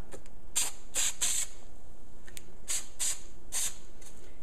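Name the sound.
spraying adhesive from a spray can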